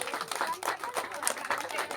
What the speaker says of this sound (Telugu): సోమేశ్వరచారి గారికి గట్టిగా చప్పట్లు.